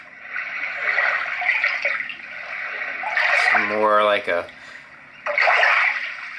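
A Roffie white noise sound machine with night light plays its water lapping setting, a steady soft wash like gentle water against rocks, with a person talking briefly partway through.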